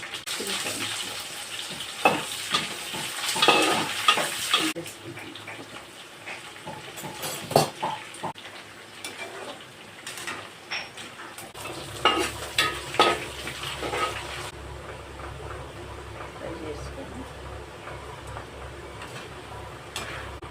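Par-boiled potatoes frying in a pan, a steady close sizzle with clattering stirs and scrapes; the crackle thins midway and gives way to a lower, softer hiss.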